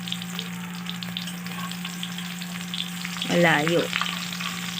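An eggplant omelette (tortang talong) fries in a pan with a soft, steady sizzle under a constant low hum, and a voice speaks briefly midway.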